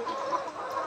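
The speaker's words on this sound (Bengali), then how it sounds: "আমাদের মুরগিগুলো আপনারা ভিডিওর মধ্যে যে এরকম দেখছেন" Layer hens around 110 to 115 days old cluck softly on a poultry farm, a brief, low murmur of calls with no talking.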